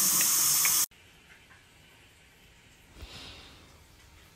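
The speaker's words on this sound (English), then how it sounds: "I'm just rinsing" A cheek dimple piercing being rinsed with water: a loud rush of running water for under a second stops abruptly, leaving near silence with faint breathing and a soft splash later on.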